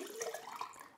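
Water is poured over gravel in a container, a brief, soft, gurgling trickle heard close up and alone.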